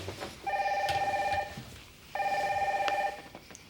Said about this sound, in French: Geneviève, le téléphone sonne là.